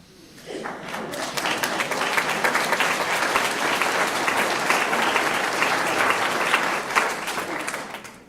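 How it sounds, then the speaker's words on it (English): An audience at a celebration-of-life gathering breaks into sustained, dense applause that swells quickly and holds for several seconds before tapering off. "I accept that applause for Margaret Atwood and Anne"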